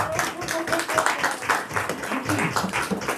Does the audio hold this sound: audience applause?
yes